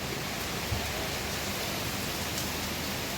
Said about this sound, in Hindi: बड़ा मस्त बारिश हो गई है।